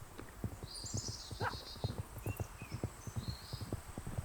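Horse hooves clip-clop in a quick, steady rhythm, with a horse whinnying over the top partway through, close and clear with no talk.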